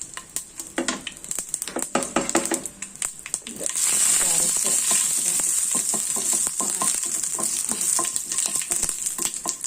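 Curry leaves and green chillies fry in hot oil: scraping stirs at first, then a loud, steady sizzle bursts up and continues with occasional clicks.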